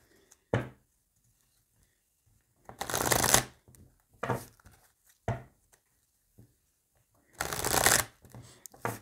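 Oracle cards are shuffled in several quick riffling bursts separated by pauses, close and crisp, with no talking.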